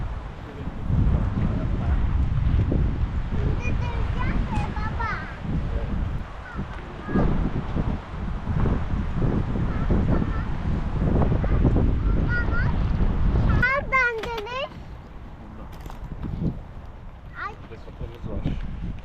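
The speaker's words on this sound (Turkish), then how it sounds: "Rüzgar bu taraftan esiyordu." Steady wind roars and buffets the microphone throughout while a three-person tent is pitched at a campsite, with people talking nearby and a brief bird call partway through.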